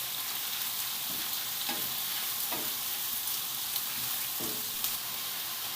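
Squid frying in a pan with browned aromatics, a steady close sizzle broken by a few sharp scraping stirs of a spoon against the pan.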